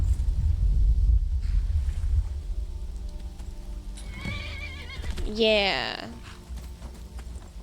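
A horse in the video game Skyrim whinnies with a rising, wavering neigh near the end, after hoof clip-clops and rumbling game ambience; a brief spoken word comes early on.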